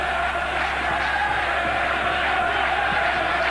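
A football stadium crowd at an AS Monaco versus Leeds United match in the 1995/96 season rises in a steady, continuous roar, loud and diffuse throughout with no individual voices standing out.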